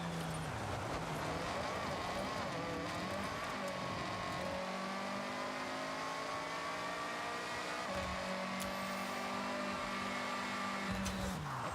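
A car engine in Forza Horizon revs steadily, stuck holding a roughly constant droning pitch with slight rises and dips, continuous and loud throughout with no talking.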